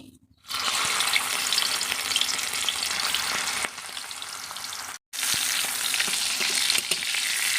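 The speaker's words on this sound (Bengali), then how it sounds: "কড়াইতে তেল দিয়ে দিয়েছি এবার মাছগুলোকে আমি ভালো করে ভেজে নেব" Giant freshwater prawns coated in salt and turmeric fry in hot oil in a wok with a loud, steady, crackling sizzle. It breaks off briefly twice and then carries on, with no talking.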